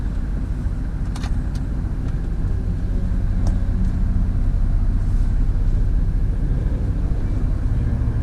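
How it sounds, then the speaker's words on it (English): A truck engine rumbles steadily and loudly while the truck and trailer reverse, a constant low drone with a few faint clicks on top and no voices. "I'm gonna reverse it in there."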